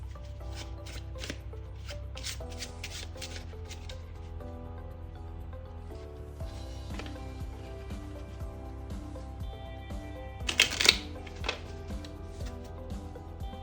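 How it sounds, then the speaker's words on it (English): Playing cards being shuffled and riffled repeatedly, soft papery rustles and flutters with a brief sharper burst near the end, no talking. "Let's give these cards a quick mix and shuffle just to keep everything honest and fair."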